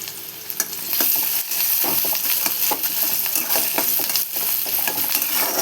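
Chopped onions fry in a kadhai for a radish dish, a constant loud sizzle broken by repeated scraping and clinking strokes of a spoon against the metal. No one talks.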